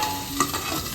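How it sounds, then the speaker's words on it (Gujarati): Mustard seeds, cumin and asafoetida sizzle and crackle in hot oil as a tempering for chevdo, a steady close frying hiss with small pops and no talking. "રાઈ જીરું હિંગ નાખી દીધી અને જો હવે વઘારે છે"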